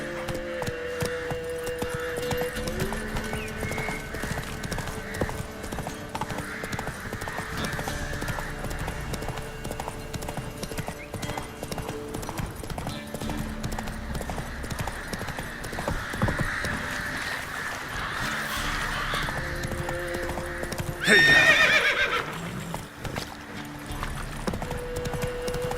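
Roach the horse gallops in The Witcher 3, with steady rhythmic hoofbeats throughout, a sharp whinny near the end, game music humming underneath and characters talking over it.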